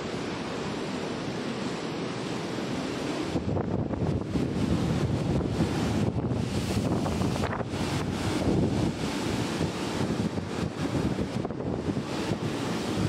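Typhoon wind and rain roar around a house before dawn during a power outage, a loud, constant rushing storm noise that intensifies after a few seconds, with no talking.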